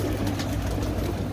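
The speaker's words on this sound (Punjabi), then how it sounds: "ਪੂਰਾ ਖੁੱਡਾ ਜਿਹੜਾ ਭਰਿਆ ਹੋਇਆ ਕਬੂਤਰਾਂ ਦੇ ਨਾਲ ਜੀ" Pigeons packed inside a full coop coo continuously in a dense, low murmuring chorus, close and steady throughout.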